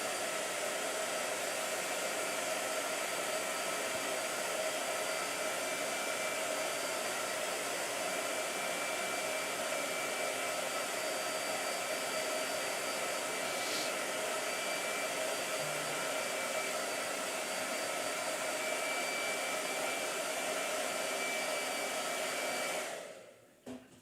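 Hair dryer blowing steadily and close for over twenty seconds, a constant loud whooshing hum with no talk over it, cutting off abruptly at the end.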